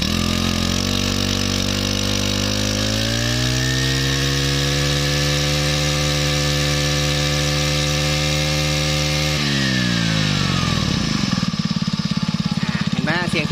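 A small two-stroke Robin brush cutter engine revs up to a steady high whine, holds, then drops back to a rough idle; a voice speaks over it.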